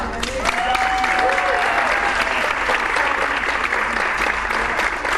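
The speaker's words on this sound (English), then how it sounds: "A round of applause for Ms. Young." Sustained applause from an audience at a 4th and 5th grade band and strings concert fills the room, dense steady clapping lasting several seconds with a brief voice rising under it at the start.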